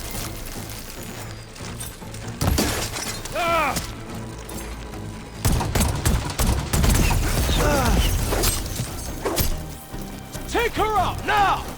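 Gunfire in the video game Horizon Forbidden West: heavy bursts of shots and impacts crash in and out, layered with shouting voices and sharp whistling electronic effects, loud and chaotic.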